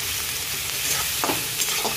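Onion and peanuts sizzle in a pan of hot oil as they are stirred, giving a dense, steady hiss with brief scraping sounds from the spoon, close and without talk.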